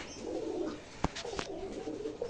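Pigeons coo softly in low, repeated throaty murmurs, with one sharp click partway through.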